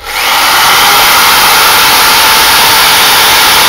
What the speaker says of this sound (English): Crazy guy with the drill.